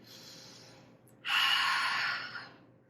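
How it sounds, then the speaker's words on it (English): Deep breathing during a yoga session: a soft, quiet inhale followed by a louder, longer breathy exhale, close to the microphone. "Take a couple breaths."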